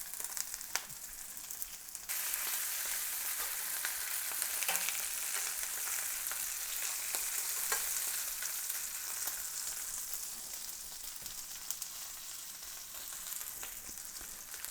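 Beef short ribs sear and brown undisturbed in a hot pan, giving a steady, close, broadband sizzle that runs continuously without talk, with a few faint pops and crackles.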